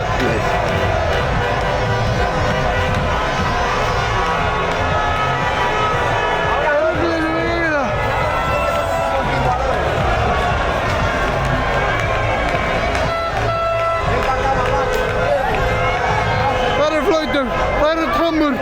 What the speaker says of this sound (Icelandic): Það eru trommur, það eru öskur.